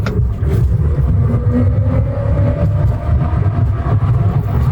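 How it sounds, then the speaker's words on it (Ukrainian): A Maxus EV30 electric commercial van accelerates at full throttle, heard from inside as a loud, steady low rumble with a faint rising tone, with no talking. "Подивіться, який який розгін у нього. Подивіться на спідометр. 45, так, і газ в пол."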